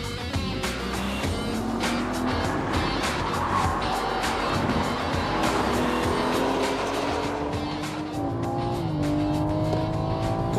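A race car laps the Magny-Cours circuit in France, its engine roaring continuously at close range with rising and falling revs through gear changes and corners, loud and steady throughout.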